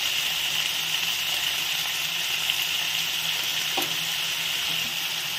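Chopped vegetables and two green chillies fry in a pan for an avial for an Easter lunch, giving a loud, steady, close sizzle throughout with a single brief knock partway through and no talking.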